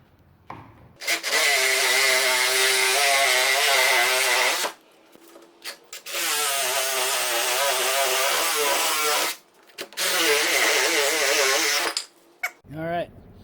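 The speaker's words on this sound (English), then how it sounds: "I'm going to hit it with the sawzall." A reciprocating saw cuts loudly during work on a wooden gantry that replaces a wall lift, in three long sustained buzzing bursts separated by brief pauses. No one talks.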